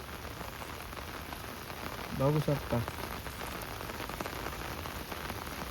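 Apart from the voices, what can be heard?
continuous rain falling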